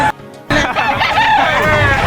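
A gamecock rooster at a Batangas chicken market crows loudly close by after a brief silence, with market background noise around it.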